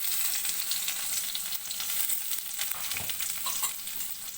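Onion and tomato fry in a pan for chicken fry, giving a steady crackling sizzle with occasional stirring scrapes.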